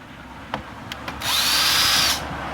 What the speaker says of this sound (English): It's an electric screwdriver.